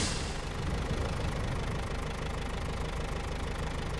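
A tractor engine in the video game SnowRunner revs hard and steadily, a loud, dense, rough knocking drone that holds without a break, with no talk over it.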